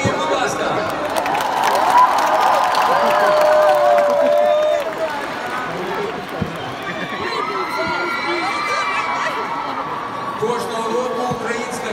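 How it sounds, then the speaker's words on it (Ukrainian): Audience cheering and applause at a Ukrainian song contest final, a loud sustained crowd roar with whoops that fades slightly midway, while a presenter talks over it. "тому оплески їм, будь ласка!"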